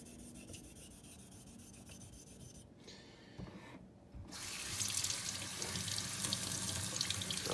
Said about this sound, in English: So I'm just going to rinse it all off.